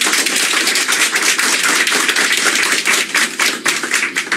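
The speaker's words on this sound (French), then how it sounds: "Applaudissez-la." Sustained applause from an audience at a French-language ministry ceremony, a dense steady wash of many hands clapping loudly for several seconds with no talk over it.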